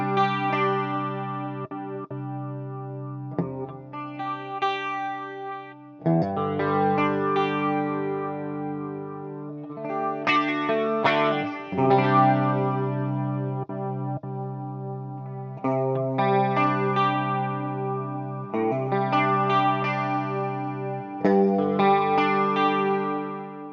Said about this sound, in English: The modulation effects, classic boss quality.